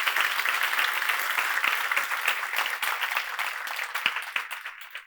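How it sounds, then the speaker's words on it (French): A congregation applauding during a church worship service, a full steady wash of many hands clapping that thins slightly toward the end, with no voices over it. "Tu peux déjà applaudir le Seigneur."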